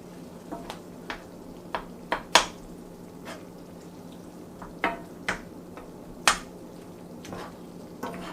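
Ground beef browning in a pan for stuffed pasta shell filling, a soft steady sizzle broken by scattered sharp pops and crackles, close and fairly quiet with no talking.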